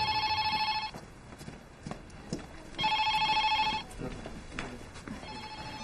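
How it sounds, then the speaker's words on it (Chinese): A telephone rings in two clear electronic bursts about two seconds apart, with a short third start at the end, close and fairly quiet in an indoor room. "李大弟电话找你，是不是出什么事儿了？"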